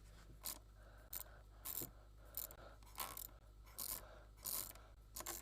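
A computer mouse is clicked again and again at a quiet, close range, sharp dry ticks arriving in an uneven rhythm of roughly a dozen presses, with no talking over them.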